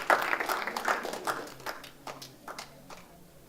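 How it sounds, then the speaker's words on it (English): Audience applause for a contestant at a university quiz event, a small crowd clapping loosely for a few seconds, fairly faint and thinning out toward the end. "Let's have a round of applause for Bhumi"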